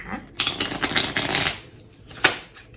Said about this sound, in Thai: ขออนุญาตสับไพ่ก่อน